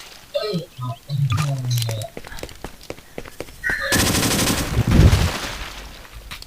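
A newly downloaded gun in Garry's Mod fires a sudden dense burst of rapid automatic shots after some scattered clicks and short sounds, the volley loud and lasting about two seconds before fading, with voices chattering around it.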